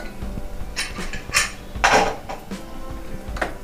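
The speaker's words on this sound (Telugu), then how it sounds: "ఇప్పుడు నేను లిడ్ ఓపెన్ చేస్తున్నాను." A pressure cooker holding goat head curry is opened, with metallic clanks and clatter as the lid is handled and removed, loud and close in a kitchen.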